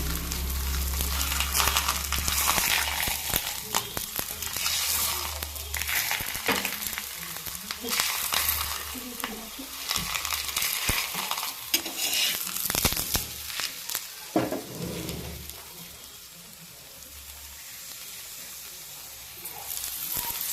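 Palak paratha fries in oil on a very hot tawa, giving a loud, continuous sizzle with crackling bursts that eases a little toward the end.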